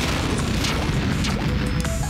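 A cannon fires a player character in the Pac-Man Party minigame Pooka Pop, producing a loud booming crash over a dense, continuous bed of game sound.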